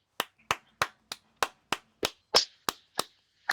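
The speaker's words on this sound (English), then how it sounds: "I'm gonna clap" Eleven sharp hand claps ring out one after another at a steady, brisk pace, close and crisp against near silence, with no voices.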